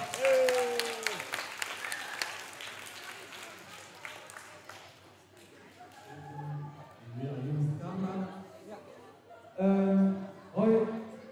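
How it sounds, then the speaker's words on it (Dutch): Pupils at the closing of a first-year school introduction week clap for a teacher, a brisk burst of applause up close that fades before voices take over. "applaus voor meneer Dag"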